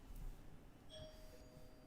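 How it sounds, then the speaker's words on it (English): A doorbell chimes faintly in a home, a thin sustained ring that starts partway through and lingers over low room noise. "my doorbell is ringing"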